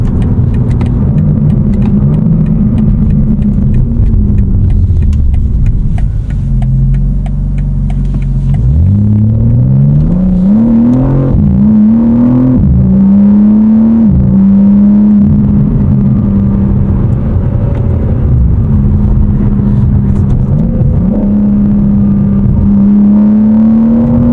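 A BMW engine pulls hard from about 3,000 RPM, a loud, close, steady rumble that climbs in pitch through several rising sweeps with brief dips between gears, heard from inside the car.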